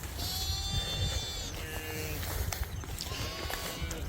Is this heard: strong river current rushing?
no